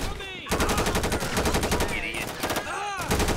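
Rapid automatic gunfire during a bank heist in the video game GTA 5, dense rattling bursts of shots in quick succession with brief pauses, loud and close.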